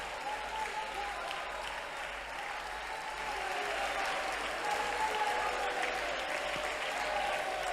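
A church congregation at a prayer centre claps continuously, a dense, steady wash of applause that swells slightly louder midway and carries on throughout.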